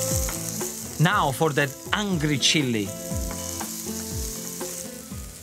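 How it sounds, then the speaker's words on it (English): Finely sliced onions and chili sizzle steadily in olive oil in a pan, a constant frying hiss running beneath someone talking close by. "this is exactly what you want to hear, the sizzling onion into the oil"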